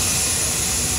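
Airliner jet engine at an airport, a loud, continuous roar filling a single brief second.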